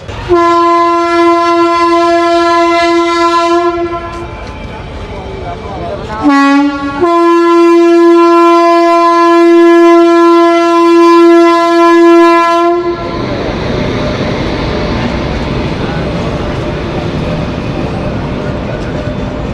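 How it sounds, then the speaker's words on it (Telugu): A Duronto Express train's loud sustained horn blares for several seconds, breaks briefly, then sounds again before giving way to the rushing roar of the passing train, near Bikaner. "ఇది చూడండి, ట్రైన్ వస్తుంది ఇక్కడ"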